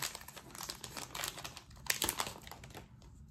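Crinkly plastic wrapper of a Pokémon trading card booster pack being torn open and handled, a steady run of close, quiet crackling and rustling with sharper tearing bursts near the middle and no talking.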